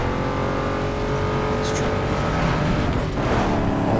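Traffic cars in the racing game Need for Speed Underground 2 on PC drone with steady engine hum and passing motor noise, continuous and moderately loud under the game's mix.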